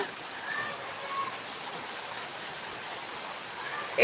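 Steady rain falling outdoors during a monsoon downpour, a constant soft hiss of drops with no distinct individual splashes, moderately quiet and even throughout.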